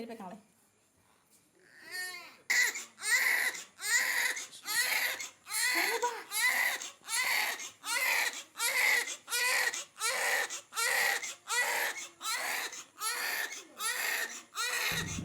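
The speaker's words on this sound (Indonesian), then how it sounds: "Dari tangisan suara nyaring inilah pertama kali ditemukan sang bayi mungil dan montok di atas keset depan pintu rumah" A newborn baby, abandoned on a doormat at a house's front door, cries loudly and repeatedly in rhythmic wails, each about half a second long, close by and alone, after a brief quiet start.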